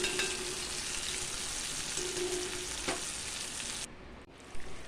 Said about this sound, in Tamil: கொஞ்ச நேரம் வதங்கட்டுங்க.